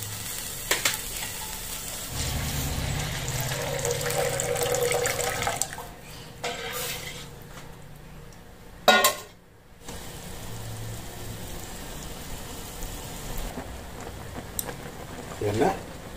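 Coconut milk poured over shrimp in a pot for Filipino laing, followed by bubbling and simmering, with a sharp clatter partway through and talk over the cooking.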